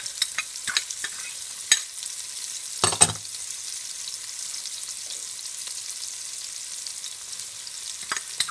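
Onions and garlic, along with peppers, green onions and cilantro, fry quietly in a pan. A soft, steady sizzle runs throughout, broken by a few brief stirring scrapes and clinks, one louder near the middle.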